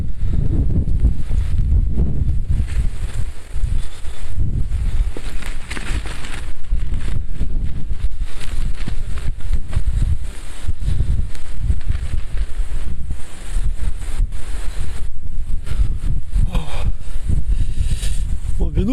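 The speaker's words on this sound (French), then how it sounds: "Malheureusement, on a toujours ce vent là, glacial." Cold wind gusting steadily across an exposed mountain bivouac site in December, a broad low rumble of buffeting air with rustling, continuous and close throughout.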